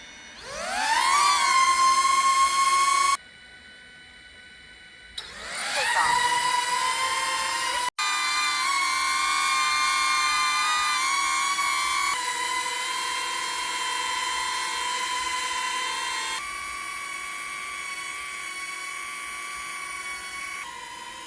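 Small DJI Neo drone propellers whir in flight with a high, steady whine, cutting out briefly near the start before resuming and shifting pitch in several distinct steps.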